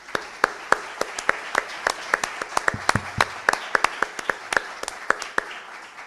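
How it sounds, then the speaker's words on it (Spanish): Applause for a young speaker at the closing ceremony of an international congress on Jesuit missions, heard as a small group of distinct, sharp hand claps in an irregular rhythm, fairly close and moderately loud. "Un aplauso nuevamente para el joven."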